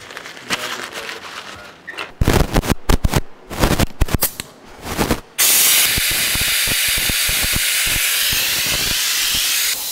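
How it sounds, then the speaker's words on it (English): Air hisses from a bleeder tool on a Harley-Davidson Road Glide lifter. Loud irregular bursts of spraying and pumping come first, then a sudden switch to a continuous strong hiss that runs to the end. "we're gonna suck a good portion of the air out of the bleeder before we install it in the motorcycle"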